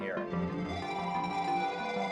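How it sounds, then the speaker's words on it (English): A grainy reverb echo trails an ambient electronic synth sound played on an iPad, forming a dense, sustained shimmering wash of layered tones that hangs at a steady, fairly soft level. "It's this grainy reverb echo of the original sound."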